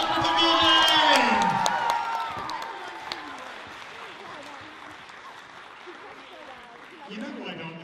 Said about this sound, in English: let's give another huge round of applause to Up the Building.